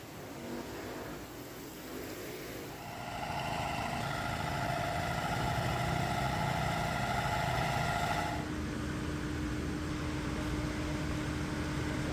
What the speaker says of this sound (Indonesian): 10 mesin pompa dioperasikan di kawasan ini untuk mempercepat proses penyedotan air dari jalan.